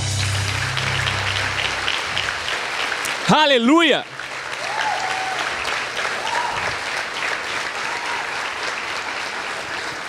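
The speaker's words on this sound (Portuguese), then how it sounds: "Eu queria que você desse um aplauso ao Senhor." Church congregation claps steadily through the clip, with a loud shouted exclamation from a voice near the middle and scattered cheers over the applause.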